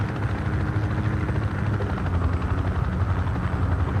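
UH-60 Blackhawk helicopter in the video game Project Reality, a steady heavy rotor thump and engine drone, continuous and close, with no voices.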